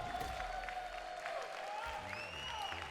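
A crowd at the CEO 2024 Mortal Kombat 1 grand finals cheers and applauds in a big hall, a dense wash of noise with whistles and shouts rising through it.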